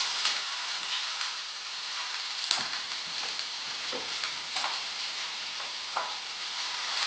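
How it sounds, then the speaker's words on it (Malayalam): Finely chopped shallots dropped into hot oil hiss and sizzle steadily, a bright continuous crackle with scattered small pops and stirring clicks, close up and with no voices. "ചൂടായ എണ്ണയിലേക്ക് നമുക്ക് ചെറിയ ഉള്ളി പൊടിയായിട്ടൊന്ന് ഇട്ടു"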